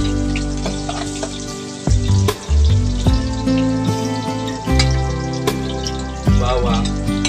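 Sliced onions drop into hot cooking oil for a crab (lambay/alimasag) dish, setting off a loud, steady sizzle with short bursts and stirring knocks, and music plays over it.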